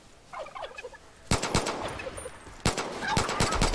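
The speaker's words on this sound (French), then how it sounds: "Oh, un dindon!" A wild turkey in Far Cry 5 gobbles in a quick, fairly faint burst, then loud, sharp gunshot bangs cut in over the game's ambience.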